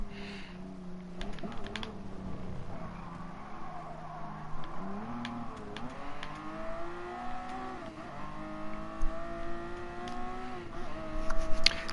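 Engine of a McLaren race car in Gran Turismo Sport, a steady sustained drone with rising and falling pitch as it accelerates and shifts, mixed with frequent sharp keyboard clicks and no talk.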